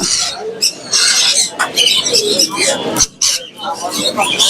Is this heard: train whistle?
no